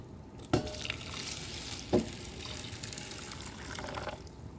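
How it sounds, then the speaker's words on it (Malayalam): Boiling water poured onto ada rice flakes in a bowl while making pink palada payasam, a steady near splashing fill with two sharper splash bursts, no talk. "ഇനി നമുക്കിതിലേക്ക് നല്ല തിളച്ച വെള്ളം ചേർത്ത് കൊടുക്കാം."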